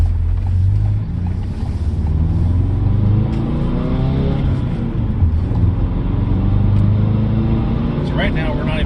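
A 2017 Ford Focus RS engine pulls under light throttle with the turbo not yet building boost, a steady low drone mixed with road and wind rush, while a person talks over it.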